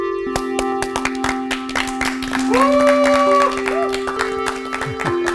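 A studio audience at a church Bible lecture claps and cheers in a steady, dense patter of applause that carries on for several seconds, with sustained tones running underneath.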